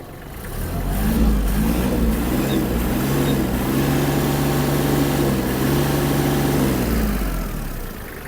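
The engine of a Japanese Kubota GL-260 mini tractor is revved close by, rising quickly to a loud, steady drone with a low rumble. It holds that level for several seconds, then eases back down, with no talking.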